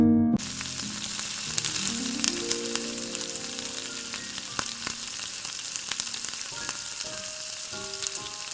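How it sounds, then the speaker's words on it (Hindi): Boiled mutton frying in hot oil with ginger and garlic, a steady close sizzle and crackle with a few stirring scrapes and occasional clinks, no talking. "इसमें मैं ऐड कर दूंगी बॉइल्ड मीट और इसको अदरक लहसुन के साथ अच्छी तरह से भून लेंगे"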